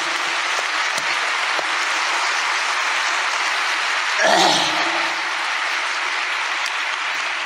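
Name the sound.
audience applause welcoming the speaker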